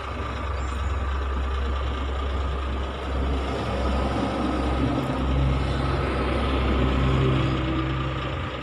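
A Sumba Putra Lestari bus operated by PT Alpi Jaya Mandiri Tulungagung idling at a roadside restaurant stop, a deep steady diesel rumble with a continuous low drone and general yard noise around it. No one speaks.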